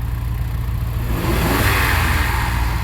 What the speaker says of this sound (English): of course it revs nicely